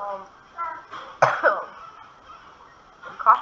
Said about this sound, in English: I'm coughing a bit, but don't mind that.